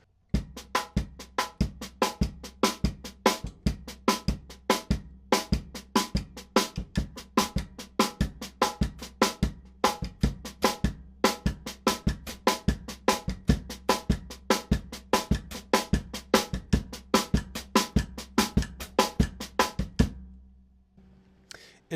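Drum kit groove with the right hand clicking steadily on the rack tom rim and the left foot working the hi-hat in gospel chops style, dense repeated hits with kick thumps, loud and close, stopping abruptly near the end.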